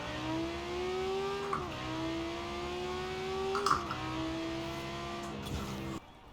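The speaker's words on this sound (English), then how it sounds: "The blow-off valves on this sound so good when it's turbocharged." A turbocharged Italdesign Zerouno in Forza Horizon 4 drones through rising gears, with short blow-off valve hisses and chirps at each shift, moderately loud and alone without talk.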